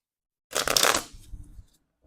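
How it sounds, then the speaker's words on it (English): A deck of thrift-store playing cards from somewhere in Europe, stiff and hard to shuffle, gets one close, loud riffle shuffle lasting about a second, then a softer rustle as the cards settle, with no talking. "So let's give these a shuffle."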